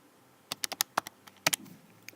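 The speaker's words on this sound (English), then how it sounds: "I'm just going to type those into my calculator here." Calculator keys tapped while entering numbers, a quick run of about a dozen light, close clicks in small irregular bursts over quiet room tone.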